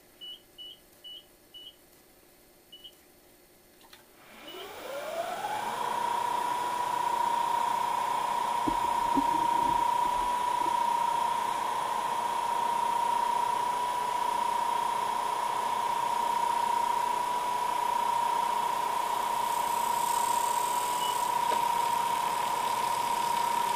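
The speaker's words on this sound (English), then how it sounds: "now we're going to do the radius on this edge" A milling machine with a radius bit cutting a rounded edge on a part for PCB board removal tools: a few short beeps, then the spindle winds up into a steady, loud whine, with a brief clatter partway through.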